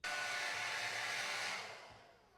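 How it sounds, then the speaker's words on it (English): A hair dryer blows loud and close, drying a mustache with a strong steady whoosh that fades away near the end. "I like to use a hair dryer to dry and align the hairs."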